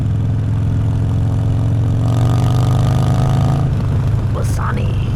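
Harley-Davidson Sportster motorcycle with a Bassani 2-into-1 exhaust idling nearby, a loud, steady low rumble with a brief higher-pitched whine near the end.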